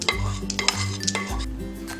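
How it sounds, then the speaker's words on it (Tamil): Curd rice being stirred with salt and a cooled tempering mixed in, a spoon scraping and clinking against the vessel in steady close strokes with soft wet mixing sounds. "இப்போ இந்த உப்பையும் தாளிச்சு கொட்டினதையும் நல்லா கிளறி விட்டுடலாம்."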